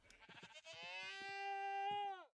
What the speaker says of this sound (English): is that the screaming goat?